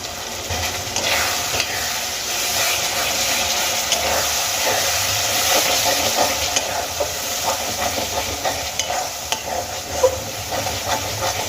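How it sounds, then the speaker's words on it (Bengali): Spices with chopped green chilli and chilli powder are fried and stirred for Bengali-style methi dal, giving a loud, unbroken sizzle close by, with scraping stirs and small crackles throughout and no speech. "এবার আমি সমস্ত মশলা খুব ভালো করে কষিয়ে নেব"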